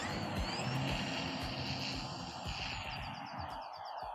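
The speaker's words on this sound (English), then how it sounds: "let's head outside and fly this Turbo Timber Evolution" E-Flite Turbo Timber Evolution RC airplane, electric on a 4S battery, flying outdoors with a steady motor and propeller whine that holds and shifts in pitch as it passes, alone without talk.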